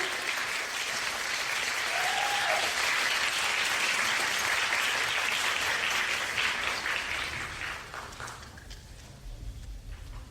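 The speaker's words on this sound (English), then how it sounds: "Let's give it another round of applause." Audience applause after a university kendo demonstration at a taiko concert: sustained, dense clapping from a large crowd with a brief whoop, fading gradually toward the end.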